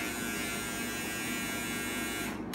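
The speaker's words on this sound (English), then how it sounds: "and the Babyliss trimmer." Close, steady buzzing of a Babyliss electric hair trimmer running continuously, stopping right at the end.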